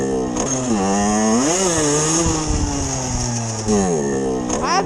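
A 50cc MV motorcycle engine revs loud and close during a wheelie, its buzzing pitch rising and falling as the throttle changes, with a brief dip near the end.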